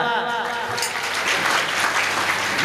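Audience at a Marathi comedy kirtan breaking into sustained applause, a dense, loud wash of many hands clapping that builds in over the last strains of a voice and continues steadily.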